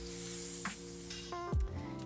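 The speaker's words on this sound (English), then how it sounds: "we can spray it throughout the hair, but the spray shine will also give a nice little shimmer to the skin" A brief hiss of shine spray misted onto hair while a messy bun is styled, with a steady tonal hum of music playing underneath.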